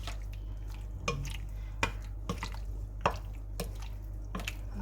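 A chicken mixture for an oven-baked dish is stirred in a bowl, giving soft wet squishes and a few light knocks of the utensil against the dish, close and quiet, with a low steady hum behind.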